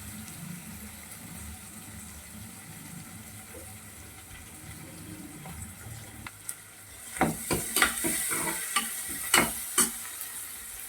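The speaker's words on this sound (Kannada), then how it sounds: "ಈರುಳ್ಳಿ ಬೇಯಲಿ ಅಂತ ಸ್ವಲ್ಪ ಸಾಲ್ಟ್ ಹಾಕಿ ಬೇಗ ಬೇಯುತ್ತೆ" Onions fry with a pinch of salt in a pan: a faint low sizzle at first, then the sizzle rises as a spoon scrapes and taps the pan in several sharp, close strokes. No voices.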